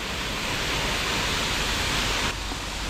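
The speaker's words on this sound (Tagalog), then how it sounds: "Napakaganda ng waterfalls dito." A waterfall on Mount Makiling roars as a dense, steady rush of falling water, loud and constant with no other sounds.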